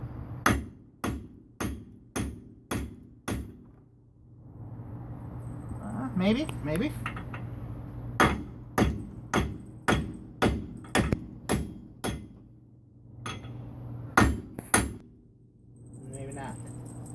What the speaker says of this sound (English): lay the steel pipe across it to protect it, and then hit the steel pipe